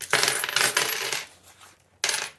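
Coins are taken out of a budget envelope and dropped, giving a loud clattering jingle for over a second. A short gap follows, then a second brief burst of clinking.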